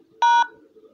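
Single telephone keypad tone from pressing the pound key, a short clean two-tone beep lasting about a fifth of a second over faint background noise.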